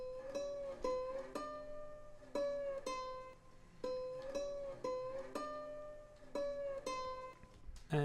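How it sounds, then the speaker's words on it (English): A slide guitar is recorded for a sample, playing repeated sliding notes that glide up and down between phrases in a steady rhythmic pattern. It is quiet and solo, with no voice. "Now the next thing I recorded was this slide guitar"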